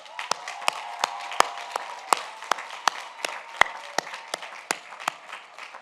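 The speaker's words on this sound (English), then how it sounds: "please join me in giving them a round of applause" Applause from a graduation ceremony audience for the staff and volunteers of a Class of 2020 final exercises, with sharp, scattered individual claps standing out over a steady, moderate wash of clapping.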